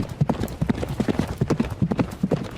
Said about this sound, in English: dug his heels into the horse's side, and came thundering over the turf